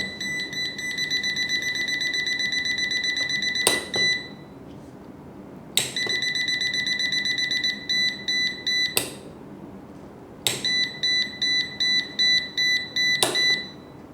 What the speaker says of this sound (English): you can use this non-contact voltage detector for protect you from the energy that we can't watch with our eyes